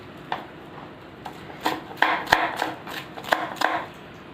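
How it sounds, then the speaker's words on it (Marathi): A knife chops tomato and coriander on a board, a series of sharp, close taps in an irregular rhythm, sparse at first and then quicker and louder toward the end, with no talking. "आता आपण टोमॅटो पण चिरून घेऊया, कोथिंबीर पण बारीक चिरून घ्यायची"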